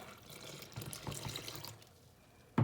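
Lukewarm water pours from a tap onto yeast and sugar set in a well of flour for gözleme dough, a soft steady trickle that swells briefly before ending in a short clatter.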